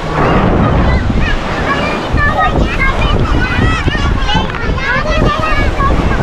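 Continuous rushing surf and wind noise on a beach in Brgy. Wawa II, Rosario, Cavite, loud and close, with people talking and children's voices mixed into the roar.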